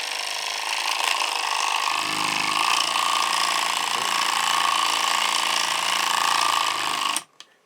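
A paint shaker holding a clear bottle runs with a steady, loud mechanical rattle and hum that stays constant for about seven seconds, then cuts off abruptly, leaving a brief clunk.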